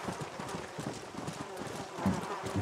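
Video-game horse hooves clattering in a quick running gallop, a steady rhythmic clip-clop at moderate volume with a voice talking over it.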